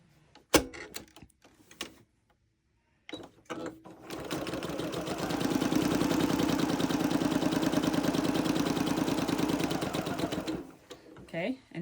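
A sewing machine stitching fabric binding strips together, starting after a few handling clicks and bumps, then running in a steady fast mechanical whir for several seconds before stopping.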